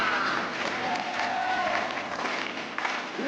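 A studio audience on a French game show cheering and applauding, a sustained roar of clapping and voices at steady loudness, with a host's voice speaking over it.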